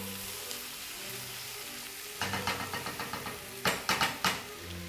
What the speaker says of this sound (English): you get this rather tangy smell from that beetroot as it's starting to cook and fry out